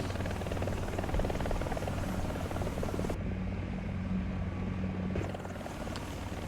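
Rotors of a Ka-52 attack helicopter in the War Thunder combat game thump and whine steadily and loudly throughout, with a brief muffled stretch midway before the full rotor roar returns.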